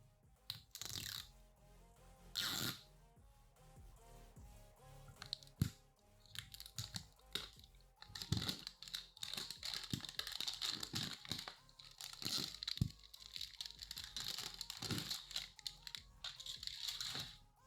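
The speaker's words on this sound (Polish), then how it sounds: "Otworzymy sobie tego tutaj oto Great Balla" A Pokémon GO Great Ball toy package being opened by hand, with crinkling plastic foil and crisp clicks and snaps of the packaging in irregular bursts, close and fairly quiet, without talking.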